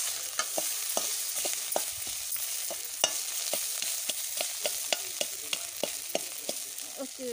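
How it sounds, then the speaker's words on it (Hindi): Fish frying in oil seasoned with garam masala, chili powder and salt, a steady sizzle broken by regular sharp clicks of a spatula or spoon against the pan, with no talking. "इसको ऐसे ही फ्राई करके खाएंगे।"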